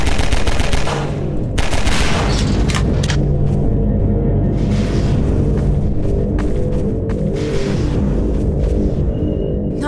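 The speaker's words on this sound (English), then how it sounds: "Just shoot the thing." Sustained video-game gunfire in Half-Life 2: Episode 2, loud rapid bursts of automatic shots with booming rumble underneath, continuous across the whole stretch with brief pauses, no voices.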